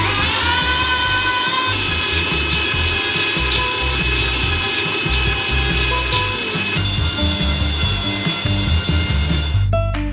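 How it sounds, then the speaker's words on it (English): Meat grinder grinding 20 kilograms of nuts through a small nozzle, a loud steady mechanical whine with grinding crunches running continuously, ending with a brief clatter. "We transfer them into a meat grinder. And grind them through a small nozzle."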